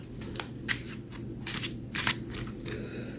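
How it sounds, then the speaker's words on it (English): Tarot cards shuffled in quiet, chaotic and messy bursts: scattered soft riffling and slapping flicks, a few sharper snaps, close by with no talking. "my shuffling skills are usually much better"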